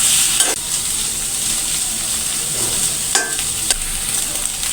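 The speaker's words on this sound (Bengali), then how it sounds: "ডিমটা দিয়ে নিয়েছি। এখন আমি সবটা সঙ্গে মিশিয়ে নেব।" A spatula stirs beaten egg through a noodle mixture in a frying pan, a steady close sizzle with a few sharp scraping knocks against the pan, no voices.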